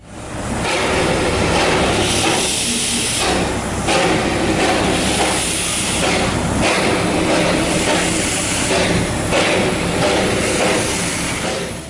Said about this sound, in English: Stoking up the steam engine.